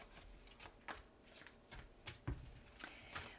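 Tarot cards are shuffled by hand in soft, repeated riffling bursts about every half second, close and quiet, with a faint background hum.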